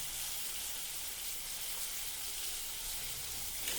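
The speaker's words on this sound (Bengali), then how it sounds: "এরপরে আমরা বেগুনগুলো দিয়ে দিলাম কেটে রাখা।" Cut eggplant pieces frying in hot oil for a mustard-style hilsa fish curry, a steady close hiss and crackle of sizzling that holds evenly throughout, with no talking.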